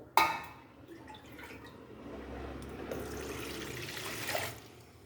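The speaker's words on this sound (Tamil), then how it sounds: "நாலரை டம்ளர் தண்ணி வந்து ஆட் பண்ணிக்கணும்" Water is poured into a pot for millet pongal: a sharp clink opens, then a steady trickling splash fills the pot, swelling toward the end, close and fairly quiet.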